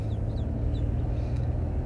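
Ducklings bought from a farm store ride in a moving car, their faint, high peeps barely rising above a loud, steady road rumble.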